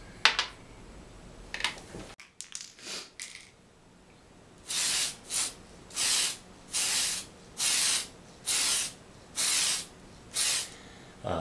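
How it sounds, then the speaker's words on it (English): An aerosol can of light gray spray paint sprays in about eight short, steady hissing bursts with brief pauses between, after a few quieter rattles and clicks at the start. "You can use just about any light gray, and we will spray paint that."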